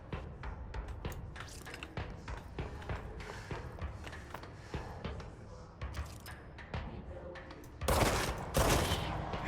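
Repeated gunshots in the video game Control, a run of sharp irregular shots fired against enemies, with a heavier burst near the end, at moderate level with no speech in the clip.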